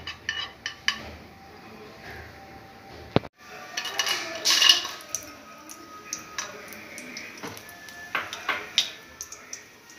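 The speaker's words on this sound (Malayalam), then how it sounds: "അതിലേക്ക് നമ്മൾ അണ്ടിപ്പരിപ്പും മുന്തിരിയിട്ടൊന്ന് വഴറ്റിയെടുക്കാം." Cashews and raisins sizzle in ghee in a pan for a payasam, with light crackles and scattered spoon clinks and taps against the pan, close and moderately loud, with no talking.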